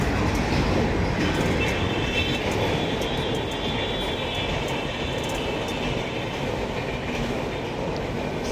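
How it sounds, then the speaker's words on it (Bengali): A train runs past the Rani Rasmani skywalk at Dakshineswar, a steady close rumble with faint clickety-clack of wheels on rails that holds for the whole stretch without any talk. "সাইড দিয়ে ট্রেন চলে যাচ্ছে।"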